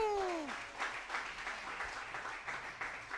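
Congregation in a church service applauding and acclaiming Jesus, a dense wash of clapping and cheering that carries steadily after a sung note fades, no single voice standing out.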